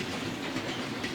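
Long freight train of leased coal boxcars and plug-door boxcars rolling past near Tehachapi, a steady loud rumble with clickety-clack of wheels on rail joints, no voices.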